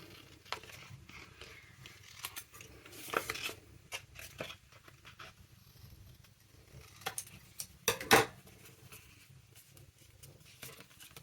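Scissors snip through paper while mass-making junk journal library pockets, a scattering of quiet, irregular crisp cuts and small handling ticks, with one sharper snip near the end, in a fairly quiet room.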